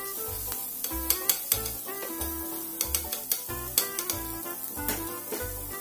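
Chicken sisig sizzles steadily on a hot sizzling plate while a utensil scrapes and taps against the metal in quick, irregular strokes, close and clear.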